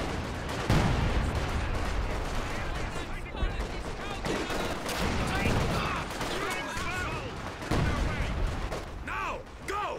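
Heavy machine gun fire in the World War II strategy game Company of Heroes 2, with dense continuous bursts and surrounding battle explosions filling the clip, loud and close, with shouted voices in the mix.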